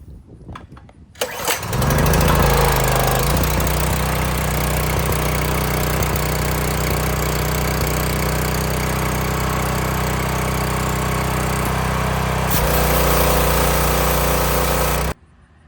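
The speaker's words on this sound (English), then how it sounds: "we're going to give it a few pulls, and after it's been running for a little bit, we're going to switch it over to run" A Ryobi gasoline pressure washer engine catches after a pull start and settles into a loud, steady running drone, close by, with a brief shift in tone near the end before it cuts off.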